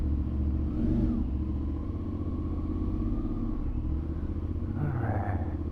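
Motorcycle engine idling with a steady low rumble in an Algeciras, Spain port area while being readied for a ferry to Morocco, with a brief rev near the end; close and continuous, no talk.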